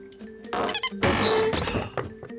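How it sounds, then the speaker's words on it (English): Squeaky rubber socks give rubbery squeaks and soft thumps in quick irregular bursts, loud and close, as if being squished and dropped. "My collection of squeaky rubber socks."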